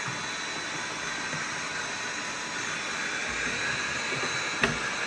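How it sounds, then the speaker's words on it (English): A vacuum cleaner sucks debris out of a Makera Carvera Air desktop CNC machine with a loud, steady, close hissing roar that runs unbroken throughout and ends in one brief knock. "Just vacuuming it all out"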